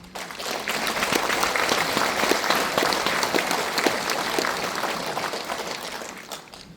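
Sustained audience applause fills a hall at a book launch for a Korean education superintendent candidate, a dense wash of many clapping hands that swells and then fades, with no speech over it.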